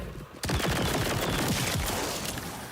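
A gun fires rapidly in a video game, a steady stream of close, loud shots sustained throughout, with no clear talking.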